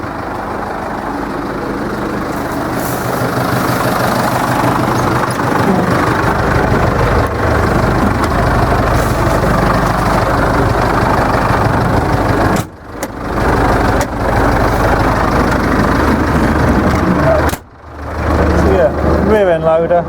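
A ride-on mower with a broken gearbox idles loudly and steadily nearby, its engine running unbroken except for two short dropouts partway through.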